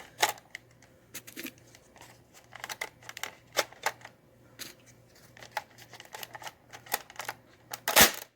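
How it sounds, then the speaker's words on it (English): A Nerf Mega Magnus blaster being reloaded by hand, a string of plastic clicks, clacks and rattles at irregular intervals, close and moderately loud, ending with a sharper snap. "Gonna do another active reload here."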